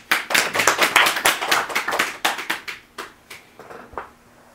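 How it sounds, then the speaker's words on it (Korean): An audience at a Buddhist Sunday dharma service claps together, a dense burst of applause that gradually thins into scattered claps and fades out. "박수 한번 칠까요?"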